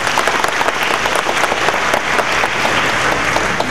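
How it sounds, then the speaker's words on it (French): A graduation audience gives Dr. Blanc a loud, dense round of applause, continuous clapping filling the hall with a few faint voices mixed in. "il mérite encore un plus grand applaudissement"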